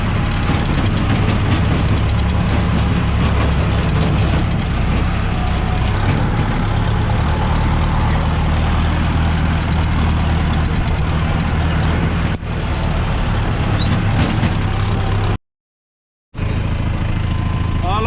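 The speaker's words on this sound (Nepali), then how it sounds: "गाइज अब चाहिँ मैले ट्र्याक्टर चलाउँदैछु एक गियरमा हालिसकेको छु" A Mahindra tractor engine running while driving in first gear, a loud, steady low diesel drone that continues without a break before a brief dropout near the end.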